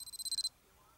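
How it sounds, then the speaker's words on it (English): A rapid run of about eight high electronic beeps from a small wristwatch alarm, close and clear, then stopping abruptly into quiet. "That's the alarm on my watch."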